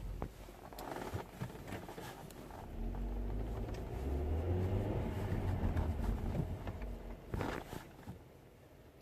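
A car with its oil warning light on drives down a road, a low engine rumble building and holding steady before easing as it brakes, with faint tyre and cabin noise throughout.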